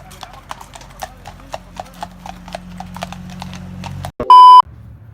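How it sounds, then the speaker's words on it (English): Horses walk past on pavement, their hooves clip-clopping in a steady, fairly close rhythm, with a low engine-like hum underneath. A sharp electronic beep cuts in near the end. "Let's wait for the horses to go by."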